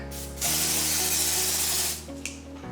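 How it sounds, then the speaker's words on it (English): A close, steady hiss of Dior Airflash spray foundation sprayed from its aerosol can, lasting about a second and a half, then stopping, with a faint click afterward. "And then just spray like that."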